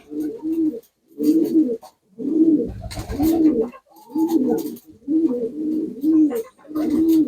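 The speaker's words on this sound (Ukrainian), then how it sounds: "Зараз даю птиці су, суто, бачите, пшеницю. Голуби злітаються." Pigeons coo in a village yard while flocking to scattered wheat feed, with repeated throaty bursts of rolling coos following one another in a steady rhythm, close and fairly loud, and no talking.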